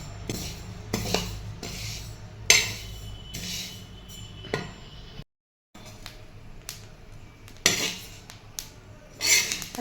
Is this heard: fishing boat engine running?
no